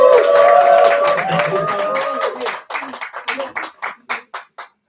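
A crowd applauds loudly with some cheering; the clapping thins out into a few scattered, separate claps before stopping.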